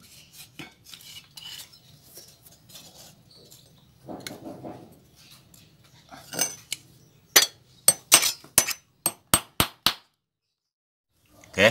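Hammering nails into a pot mould, starting with soft handling and scraping noises, then a quick series of about eight sharp, ringing metallic hammer strikes close by, with no voices.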